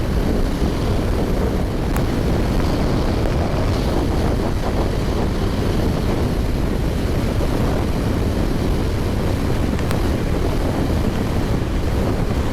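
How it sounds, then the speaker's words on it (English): Strong wind roars steadily across the microphone while riding a motorcycle, with a low rumbling buffet, loud and continuous, with no voices. "Very windy up here."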